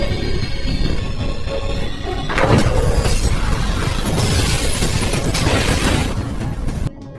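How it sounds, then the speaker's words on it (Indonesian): A house blows up in a film scene, a loud sustained roar of blast and debris that swells midway and rumbles on for several seconds before cutting off. "bersiap-siap untuk meledakkan rumah tersebut"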